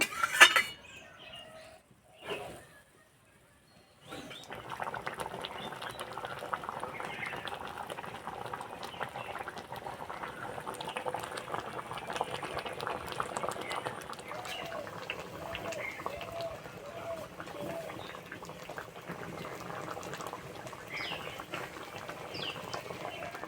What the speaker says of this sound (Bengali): ভালো করে ফুটিয়ে নেব।